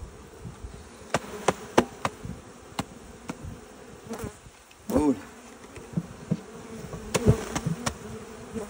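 Bees hum and buzz around a beehive, with sharp buzzing passes close by and several knocks and clacks from the hive, and someone speaks briefly.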